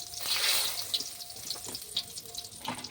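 Whole cardamom, cinnamon, cloves and bay leaf hit hot oil that already holds a pinch of sugar, giving a steady close-up sizzle and crackle with brief clinks.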